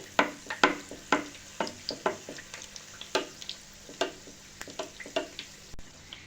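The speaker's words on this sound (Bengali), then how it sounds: "এভাবে একটু তেল ছিটিয়ে দিতে হবে।" Vegetable patties fry in hot oil in a pan with a sharp, close crackle, irregular spits and pops bursting out one after another over a low sizzle.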